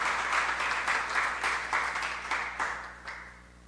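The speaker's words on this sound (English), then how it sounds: "Give him another round of applause" A crowd applauds in a multi-purpose community facility hall, the clapping swelling in rhythmic waves before gradually tapering off.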